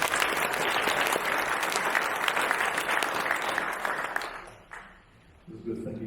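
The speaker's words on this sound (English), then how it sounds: "Give another round of applause" Dense, steady audience applause for a candidate at a Baptist church candidates' meeting, loud and continuous, then thinning out and fading near the end before a voice begins to speak.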